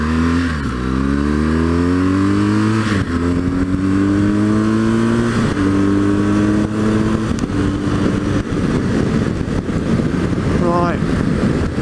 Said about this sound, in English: that's going up through the gears